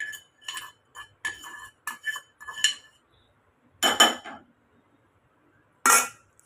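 A spoon scraping and clinking against a pan while lemon rice is mixed, in repeated short bursts of metallic clatter with pauses between strokes and a couple of louder scrapes near the end.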